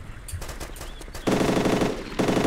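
Automatic gunfire in the ARMA military game, two long rapid bursts of close, loud machine-gun fire with quieter shots and clatter before them.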